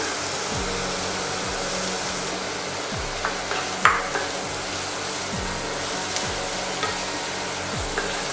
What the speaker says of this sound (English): And saute it so that the mushrooms are evenly covered with the mixture.